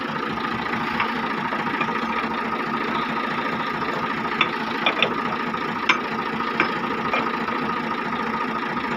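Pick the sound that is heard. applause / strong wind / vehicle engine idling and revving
vehicle engine idling and revving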